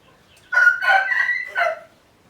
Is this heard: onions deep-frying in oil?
no